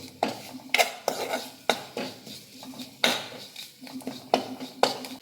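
A spoon stirs fish roe masala in a metal pan. Close, repeated clanks and scrapes of metal on metal come in irregular strokes, with a faint sizzle underneath.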